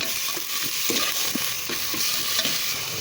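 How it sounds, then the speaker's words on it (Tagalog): Tomatoes frying in a pan hiss steadily while a utensil stirs them, with irregular light scraping taps against the pan and no talk. "Halo-haloin natin guys. Halo ng halo."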